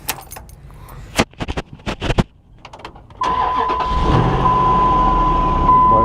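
A four-wheel drive vehicle started with its ignition key: close keys jingle and click in the ignition, then the engine cranks and catches, settling into a loud, steady idle with a faint whine.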